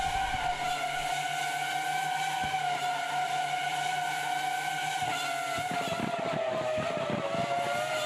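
Formula V10 race cars in a racing video game scream past at high revs with a steady, piercing engine whine that sweeps down in pitch, while tires squeal and scrub under heavy cornering close by.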